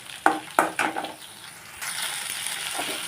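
Peanuts with a little salt dry-roasting in a pan, with a few sharp rattling clicks as they are stirred, then a soft, steady sizzling hiss.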